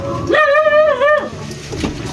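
A puppy gives a single drawn-out whimpering yelp that rises and bends in pitch for about a second, close and clear, with soft household background and faint talk around it.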